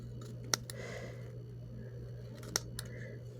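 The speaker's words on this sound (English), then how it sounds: "So I'm just going to trim all of the white off of it." Scissors trim the white border off a paper art trading card cut from a faux vintage magazine image, with two crisp, quiet snips a couple of seconds apart over a low hum.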